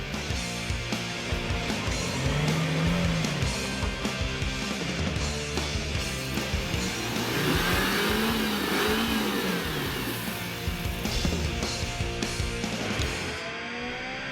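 A Suzuki Jimny's mid-pitched engine revs and strains while losing traction in an off-road rut, rising and falling in pitch with repeated pushes, loud and close throughout.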